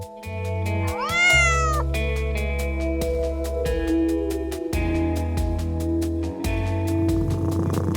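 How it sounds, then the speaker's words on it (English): A cat gives a single rising-and-falling meow near the start, clear and close, over a continuous musical backing. "Cat."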